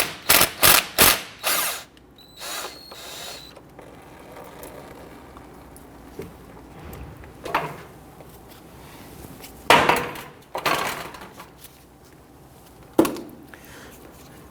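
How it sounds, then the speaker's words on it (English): Repeated clicks from a 12mm socket ratchet loosening a brake caliper banjo bolt on a 2011-2015 Kia Sorento. Quick bursts of close ratcheting come first, then scattered clunks and clicks of the tool and parts, with no talk. "Using a 12mm socket, I want to go ahead and loosen and remove this banjo bolt."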